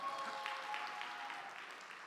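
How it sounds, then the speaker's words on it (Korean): A church congregation claps together in a soft, fairly distant round of applause that stays even and brief. "박수 한번 쳐주세요."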